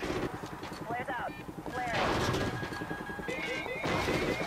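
Gunfire in Call of Duty: Ghosts during a helicopter air battle with missiles and flares, a dense, continuous stream of shots and impacts with whistling tones and in-game radio voices talking throughout.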